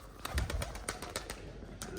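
Homing pigeons kept for Punjabi kabootarbazi are let go into flight, giving a run of quick, sharp wing-flutter bursts near at hand, mixed with faint cooing.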